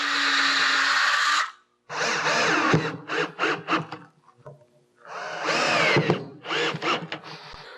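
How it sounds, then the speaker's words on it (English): A power drill with an 1/8 inch bit whirs in short bursts, spinning up and pre-drilling holes in a 1932 Ford roadster hood several times with brief pauses between, close and fairly loud. "Now we just use an 1/8 inch drill."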